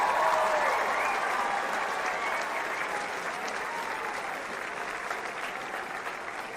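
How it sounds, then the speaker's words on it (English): Large stadium crowd at an LSU baseball national championship celebration applauding the gate staff and concession workers: a broad, distant wash of steady clapping and cheering that holds for several seconds and slowly thins. "How about we give them a great round of applause?"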